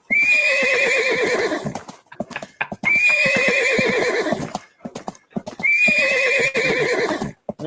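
Horse neighing and hoof clip-clop played from a soundboard, three loud whinnies in a row, each with clopping hooves, separated by short gaps.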